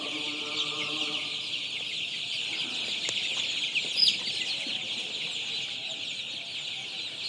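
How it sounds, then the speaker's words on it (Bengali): Constant high-pitched peeping from a crowd of young Paragon colour-bat chicks, steady and dense throughout, with no talking. "এই বাচ্চাগুলো হচ্ছে প্যারাগন কোম্পানির প্যারাগন কালারবাট মুরগির বাচ্চা"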